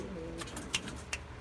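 Soft cooing from a young, molting pouter pigeon indoors, heard as a faint low murmur with a couple of brief louder notes, no talking over it.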